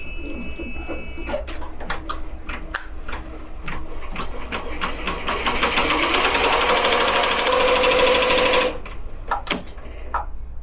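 A computerized embroidery machine stitches a white tack-down outline for a giant patch, its needle hammering in a fast steady rhythm that swells louder and busier midway, then drops back to sparse mechanical clicks near the end.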